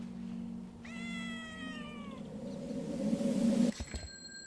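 A cat in the video game Time Loader lets out a clear, drawn-out meow followed by a rising, strained yowl, then a short thump, with no voices over it.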